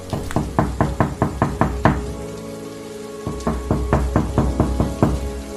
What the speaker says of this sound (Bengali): গ্রামের প্রথম বাড়িটির সামনে গিয়ে দরজাটা ধাক্কালো